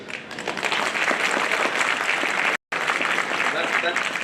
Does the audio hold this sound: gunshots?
no